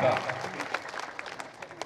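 Applause welcomes a speaker at a BJP public rally in Chhattisgarh for the 2023 assembly election, a steady patter of many hands that sounds somewhat distant and thins slightly over a couple of seconds.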